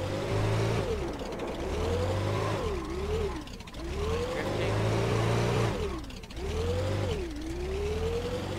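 A muscle car in a brick-built driving game accelerates hard, its engine note rising and dropping sharply at each gear change in a repeating pattern of steady, loud revving runs.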